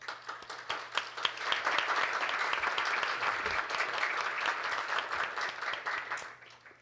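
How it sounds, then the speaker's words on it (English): An audience at a defence ministerial meeting applauds as Canada's Minister of National Defence comes up to speak: many hands clapping, building quickly into a steady, even round before tapering off. "Please also welcome him with a warm round of applause."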